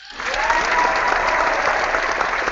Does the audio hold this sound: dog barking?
no